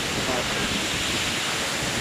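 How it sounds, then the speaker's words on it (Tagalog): A waterfall roars as a steady, dense wash of rushing water, loud and unbroken throughout. "Ito na yung waterfalls, oh."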